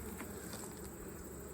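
Honey bees buzzing at a beehive during a check of honey stores, a steady close insect hum filling the whole short moment with faint patter, no talk.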